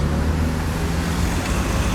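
Heavy road traffic streams past in Üsküdar, Istanbul, near the Sinan Paşa Mosque: a dense, continuous roar of cars, buses and trucks with no let-up.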